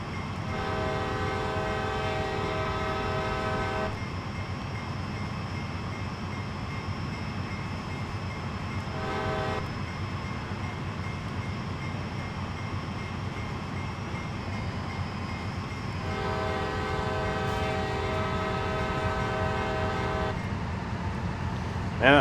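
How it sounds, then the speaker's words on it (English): An AC4400CW diesel locomotive in the Train Sim World game, on CSX heavy-haul autorack service, sounds long horn blasts over a rapid crossing bell at a railroad crossing, with steady rumbling engine noise beneath and no voices. "Of course, railroad crossing with the bell and horn."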